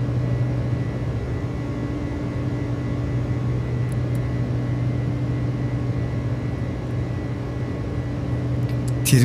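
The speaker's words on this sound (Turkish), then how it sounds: "Trim sesi iyidir." Steady droning hum inside the cockpit of an Airbus A300-600 climbing after takeoff, constant engine and airflow tone with a faint click near the end, no voices.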